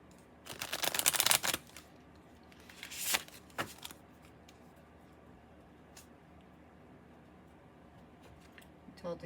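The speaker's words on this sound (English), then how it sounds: "Told to cut the deck 3 times." Someone cuts and shuffles a deck of tarot cards close by, giving a couple of riffling bursts followed by a few quiet taps and rustles against a hushed room.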